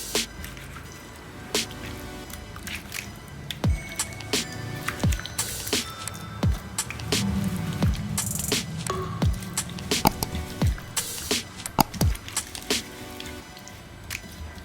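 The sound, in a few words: mixing masala into mackerel fish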